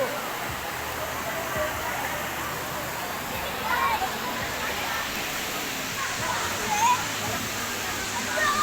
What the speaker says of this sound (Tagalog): Ito naman lakas ng agos